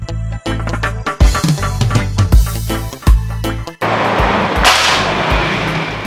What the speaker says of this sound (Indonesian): Oke, tembakan yang pertama.